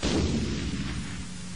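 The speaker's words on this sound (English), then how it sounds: "This field test shows the power of an explosion resulting from pressure built to intolerable limits." A water heater explodes from built-up pressure in an outdoor field test. A loud, broadband blast sustains a heavy rumbling roar for the whole moment, with no talking.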